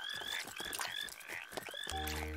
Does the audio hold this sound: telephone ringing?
no